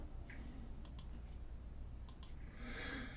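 Several faint clicks of keys being pressed on an HP Prime calculator, a few separate taps scattered over a quiet hiss, with a brighter rustle near the end.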